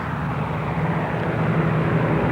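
Bomber planes taxiing on an airfield perimeter track at Rackheath, a steady, loud, continuous engine drone with no pauses.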